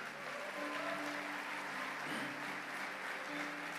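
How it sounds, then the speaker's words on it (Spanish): Congregation applauding in a church service in Viña del Mar, a steady wash of clapping filling the room, with faint sustained musical tones beneath. "Alguien aplauda por Viña del Mar."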